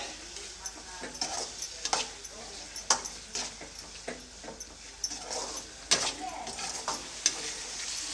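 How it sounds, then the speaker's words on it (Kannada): Eggplant pieces cook with tamarind in a pan for vangi bath. The pan bubbles and hisses quietly and steadily, broken by repeated sharp clinks and scrapes of stirring, all faint and close. "ಇವಾಗ ಬದನೆಕಾಯಿ ಬೇಯೋವರೆಗೂ ಅಂದರೆ ಒಂದು ಮೂರು ನಿಮಿಷ ಚೆನ್ನಾಗಿ ಕುದಿಸ್ಕೊಳ್ತೀನಿ"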